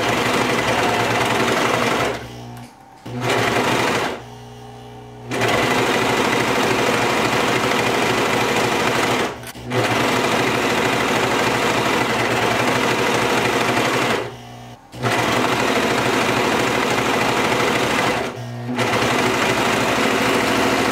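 A Brother 1034DX serger sewing fabric for baby bell-bottom flare pants runs in a loud, steady, rapid mechanical hum, stopping briefly several times before starting up again.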